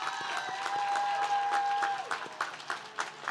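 A crowd applauds faculty and staff at a college commencement ceremony, with moderate clapping that rolls on steadily and thins toward the end, distant and a little faint with a tonal ring heard over it.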